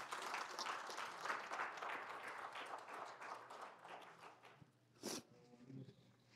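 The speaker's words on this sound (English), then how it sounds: "Can we give God a clap for that?" A church congregation claps together for several seconds, the applause gradually thinning toward the end, with a brief sharp burst near the close and faint voices underneath.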